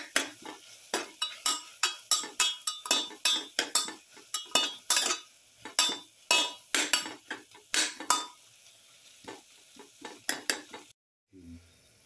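A spoon stirs chicken stew with pepper, ginger and garlic in a pot, a long run of scraping, clinking strokes in a quick uneven rhythm, with a faint sizzle underneath before a sudden stop.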